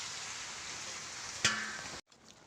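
Meat sizzling in a pan as it finishes cooking, a steady close hiss of frying with a brief clink partway through before the sound cuts off.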